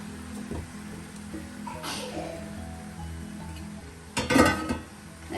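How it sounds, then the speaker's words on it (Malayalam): Marinated chicken tips into a pan of frying onions for a coconut milk chicken curry: a steady low sizzle, then a loud clattering, hissing burst as the pieces hit the hot pan near the end. "ചിക്കൻ നമുക്ക് ഉള്ളിയിലോട്ട് ചേർക്കാം."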